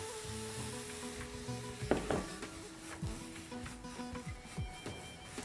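Sliced green onion sizzles softly in a frying pan with chicken, ginger and oyster mushrooms, a low steady hiss with occasional scraping stirs and light clatter.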